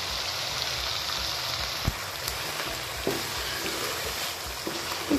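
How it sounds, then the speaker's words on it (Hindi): Chicken pieces browning in a pan with garlic for a methi aloo chicken dish, a steady close crackling sizzle with a few faint taps and clicks, no talk. "अब मैं इसमें चिकन ऐड कर दूँगी। फिर चिकन को थोड़ा सा भून लूँगी 2-3 मिनट के लिए।"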